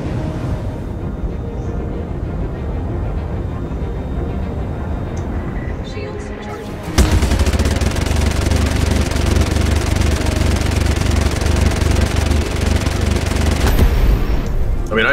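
Sustained, dense ship-weapon gunfire rattles through Star Citizen's Arena Commander space dogfighting alongside a steady engine roar. It jumps suddenly louder midway and continues unbroken, with a voice talking over the action.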